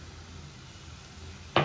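Spinach and onions fry gently in a pan on low heat, a soft, steady sizzle heard close by, with a sharp knock or scrape right at the end.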